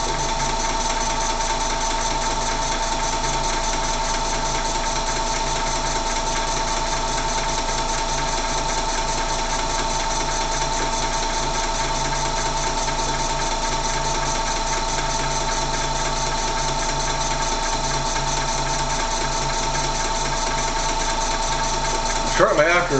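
A small kit-built model engine runs steadily with a fast, even mechanical whir and rattle, loud and close, unchanging for over twenty seconds before a brief bump at the end.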